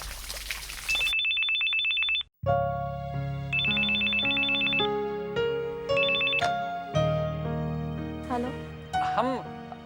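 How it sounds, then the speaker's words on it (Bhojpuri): A telephone rings with a repeating electronic trill, alternating with bursts of a jingly melodic tune, loud and continuous for several seconds. "यशोदा तोहार फोन"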